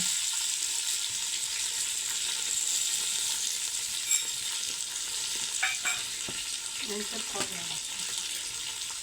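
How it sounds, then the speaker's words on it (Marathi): Curry leaves, coriander and dry coconut fry in a hot pan for a Diwali snack, giving a steady close sizzle with a few stirring clinks and scrapes near the end. "सुका खोबरा हे सर्व फ्राय करून घ्यायचे"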